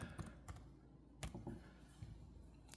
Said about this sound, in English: And I'm just going to type a couple of things.